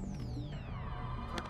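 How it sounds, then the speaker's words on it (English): A gun being cocked in a PC video game: a short mechanical ratcheting click with a falling whine, heard over a constant loud background hum. "Cocked the gun."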